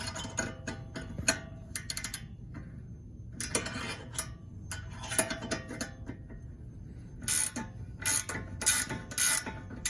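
A ratchet turns a bolt during a Brembo brake swap on a Dodge Charger R/T, giving rapid clicking runs in short bursts close by, mixed with metallic tool clinks.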